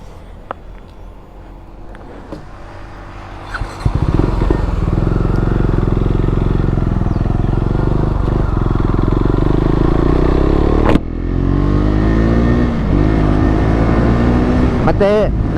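A motorcycle on a large group biking-community ride idles then opens up into a steady, close engine drone, with someone talking over the engine noise.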